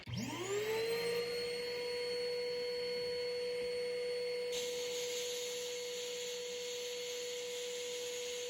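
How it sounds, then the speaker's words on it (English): A workshop dust collector spins up and runs steadily with a loud, constant whine and roar, continuing alone without talk. "So I'm going to make a little bit of noise here as I turn on my"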